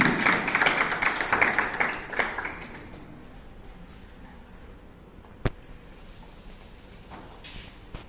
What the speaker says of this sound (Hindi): एक बार जोरदार तालियां हो जाए प्राची के लिए।